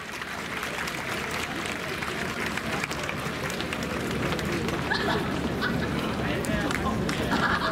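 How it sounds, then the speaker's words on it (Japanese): Audience applause and crowd noise for a ten-year-old student dance team with over fifty members at an outdoor plaza at Pacifico Yokohama, a dense, continuous wash of clapping and babble that swells slightly toward the end. "それでは大きな拍手よろしくお願いいたします"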